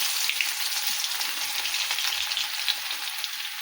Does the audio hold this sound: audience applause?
no